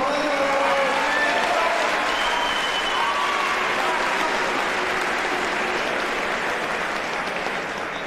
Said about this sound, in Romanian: Ștefan Orza, mulțumim, aplauze!